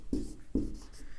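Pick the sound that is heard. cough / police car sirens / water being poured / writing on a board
writing on a board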